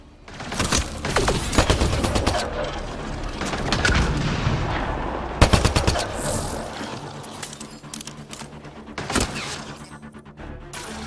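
Pistol gunfire and booming impacts in Mass Effect: Andromeda, sharp shots in clusters with a rapid burst near the middle, loud and close against a rumbling combat background.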